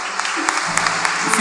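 Church congregation applause, a loud dense burst of clapping filling the whole moment with a few sharper claps standing out and voices mixed in beneath.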